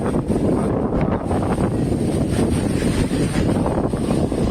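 Strong, steady wind roars near the Amboli waterfall, a loud continuous rushing buffet with no pauses across the whole stretch.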